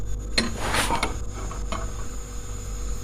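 Tarhana mixture of wheat flour being stirred in a pot, with scraping and clinking of a utensil against the pot over a steady low hum, close and fairly loud.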